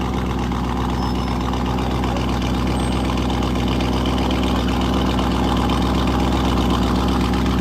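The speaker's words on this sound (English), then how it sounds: "Listen to this guy with the loud muffler and the really expensive car." An expensive car with a loud muffler idling at a checkpoint, a steady, close, throbbing exhaust drone that stays loud and unbroken throughout.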